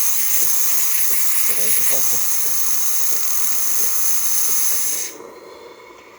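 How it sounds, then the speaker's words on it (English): Steady loud hiss from the steam wand of a DeLonghi Magnifica espresso machine, running continuously under a voice before cutting off sharply near the end. "you can see nice pressure, excellent temperature, really great steam coming out of the machine."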